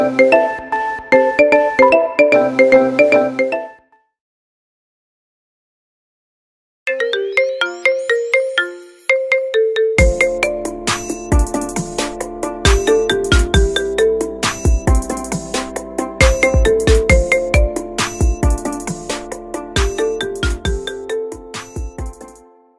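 A bright marimba ringtone plays a plucked, melodic phrase, stops for a few seconds of silence, then returns with a fuller, denser pattern of repeated mallet notes over a deep bass pulse.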